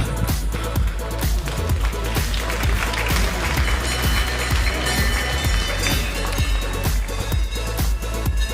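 An audience at a cattle championship ring gives loud, sustained applause for a group of more than twenty cows gathered together, the clapping dense and continuous throughout.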